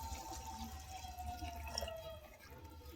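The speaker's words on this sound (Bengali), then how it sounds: "তখন এর ভিতর দিয়ে নিতে হবে জল" Water trickles and splashes into a pan of pangas fish curry on the stove, a faint continuous pour over low kitchen background noise.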